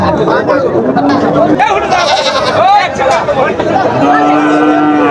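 Cattle at a crowded livestock market low with several long moos, some near and some farther off, over constant crowd chatter and nearby voices.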